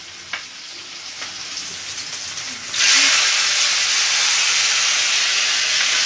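Finely chopped onion drops into hot oil and bursts into a loud, steady frying hiss that starts abruptly a few seconds in after a quiet stretch with faint clinks, staying close and even without talk.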